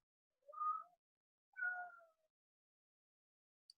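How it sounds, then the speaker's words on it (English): A house cat meows twice, clear and close in a quiet room, with two drawn-out mewing calls about a second apart, then a tiny faint chirp at the end. "My cat, Kitty Pants, agrees"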